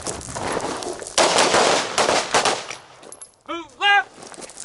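Handgun shots ring out during a movement shooting drill, several sharp reports in quick clusters over the first few seconds, followed by a short quieter stretch and then a few bright ringing tones.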